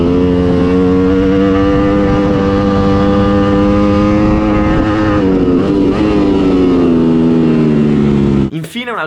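Ducati Panigale V4S motorcycle engine howls loud and close, a sustained harmonic drone that climbs gradually in pitch as it accelerates, then breaks off abruptly near the end.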